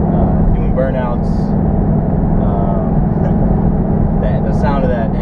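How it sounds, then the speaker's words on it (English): A Ford Mustang GT, a Hertz Penske rental with the stock Ford exhaust, gives a loud, steady engine rumble that fills the whole stretch, with faint talk over it. "the sound of that engine, and that's a Ford exhaust on it"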